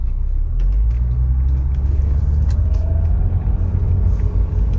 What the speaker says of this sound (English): we're gonna do a normal acceleration here in a moment and see what she does.